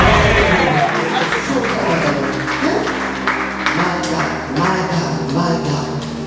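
A church congregation applauds at a lively worship service, a dense, steady clatter of many hands under music with a sustained low hum.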